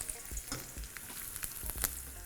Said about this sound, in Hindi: जैसे राई चटकी,